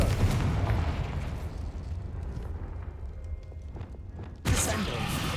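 Confringo blasting curses in Hogwarts Legacy make a loud rumbling explosion that decays over a few seconds, then a second sudden blast hits near the end, both close and booming.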